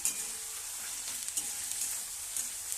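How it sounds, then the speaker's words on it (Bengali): Onions frying in hot oil in a wok, a steady close sizzle and crackle throughout with no voices. "পেঁয়াজটা ভাজা ভাজা হয়ে এসছে,"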